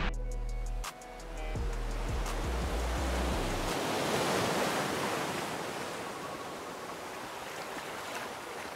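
Sea waves wash onto the shore at night on the coast of Usedom, a steady broadband rushing surf lasting throughout, fairly loud and close, with brief low wind rumble at the start.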